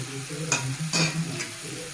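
Garlic cloves and cumin seeds frying in a hot pan, a steady close sizzle with a few sharper crackles and stirring scrapes, no voices.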